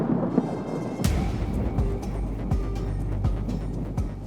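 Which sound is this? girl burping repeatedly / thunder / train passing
thunder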